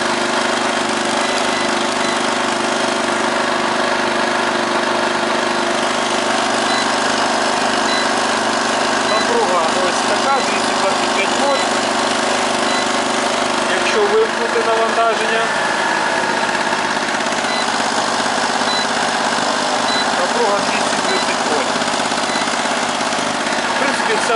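A steady generator engine drone under electrical load runs continuously at a constant pitch, loud and close, with a mechanical hum throughout.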